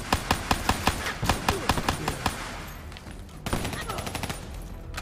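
Rapid gunfire from the Call of Duty: Black Ops 3 game, with evenly spaced sharp shots in a quick steady rhythm, a short pause, then another burst of closer, denser shots.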